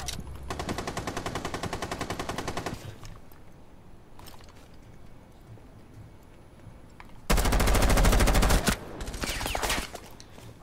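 Shotgun blasts and rapid gunfire in the online shooter Rainbow Six Siege on Xbox One, a sustained burst of shots followed by a pause, then a louder, heavier volley close by.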